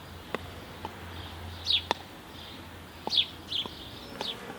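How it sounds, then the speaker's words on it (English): Bees buzz around a beehive entrance while a sparrow takes live bees from it. The scene is outdoors and fairly quiet, with a few short, high chirps and soft clicks scattered over a faint, steady background. "There's a sparrow going down to this hive, taking live bees from the entrance."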